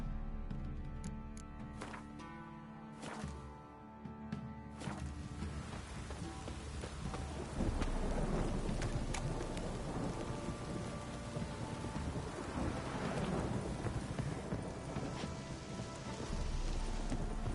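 Heavy rain pours steadily through a Witcher 3 game scene, a dense hiss spread across the whole clip, with a brief rumble of thunder early on and a few sharp knocks and taps standing out above it.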